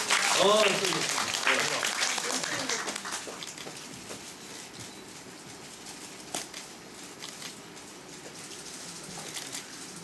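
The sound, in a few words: audience applause at a musical theatre event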